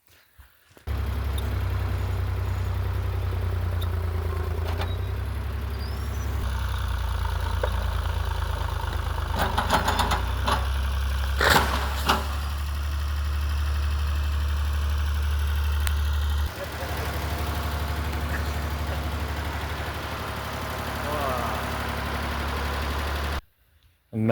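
A hot tractor engine idles in a steady, low, rumbling drone close by, broken by a few short knocks and clatters, then runs on at a slightly quieter level.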